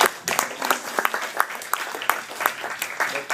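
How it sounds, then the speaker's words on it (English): An audience gives a round of applause. The clapping is lively and uneven, with sharp individual claps standing out above the general patter, at a moderate level for a few seconds. "Let's give those guys a round of applause."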